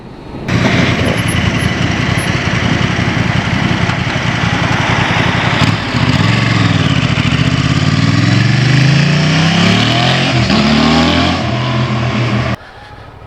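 A 2023 Honda Transalp XL750 adventure motorcycle ridden through town, its engine droning loud and close with rising and falling revs as it pulls away and accelerates, steady wind noise throughout, no voices.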